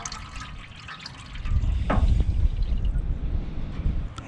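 Water runs from a tap or hose into a smoker's water tray, a steady splashing trickle that swells louder partway through, close by with no talk.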